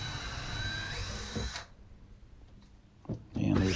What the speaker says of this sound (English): And then I can remove the screws that are holding the cabinet to the wall.